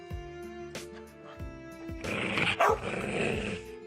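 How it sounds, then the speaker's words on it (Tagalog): A dog barks and growls a few times among dramatic music and sound effects, close and fairly loud, with a roaring burst partway through. "Saan galing ang asong kamakahol?"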